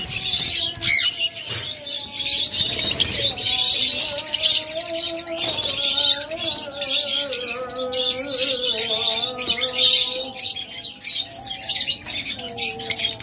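A caught caged bird at a bird sale, close and loud, giving harsh squawks mixed with repeated chirps and tonal calls throughout, with handling noises and no speech.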